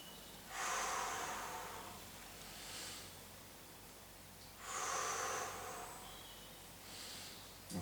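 Forceful exhales during abdominal exercises, two strong breaths and two softer ones in a slow, regular rhythm, close and alone over quiet background noise.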